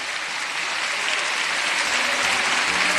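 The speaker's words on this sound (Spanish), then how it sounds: "denle unos aplausos al Rey de Reyes" Sustained applause from a church congregation, offered in worship to God during a service, a dense steady wash of clapping that holds evenly from start to finish with no voices over it.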